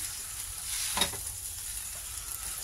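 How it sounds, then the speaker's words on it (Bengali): Chow mein with fried vegetables stirred in a pan, a soft steady sizzle with one brief scrape of the utensil, fairly faint. "চাউ দিয়ে দিয়েছি। এবার এটা দেখো নাড়ছি ভালো করে।"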